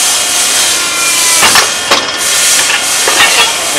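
Scotchman 50-ton ironworker, model 5014-T, shearing steel flat bar; a loud, close, steady hissing hum is broken by a couple of sharp grinding bursts as the blade cuts.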